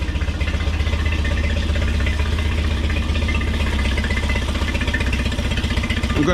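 A Tohatsu 8hp four-stroke outboard motor idles out of the water, a steady, loud, even mechanical hum with a fine rhythmic putter and no pauses.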